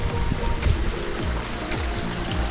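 Water rushes and splashes steadily over rocks at a creek crossing on a summer backpacking trail near Lake Sabrina, a continuous close-up burbling stream with no voices.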